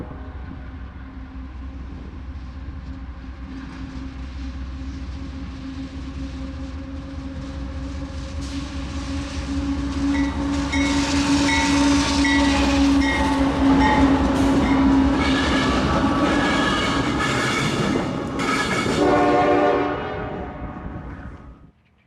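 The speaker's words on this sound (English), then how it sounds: "The next train is Q353, coming from Chicago, Illinois, and heading over to Marysville, Ohio" Freight train Q353, bound from Chicago toward Marysville, Ohio, rolls through Deshler, Ohio, with a steady close rumble of wagons and clattering wheels that swells midway, plus tonal squeals and hums near the end.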